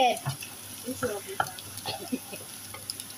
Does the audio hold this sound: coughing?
no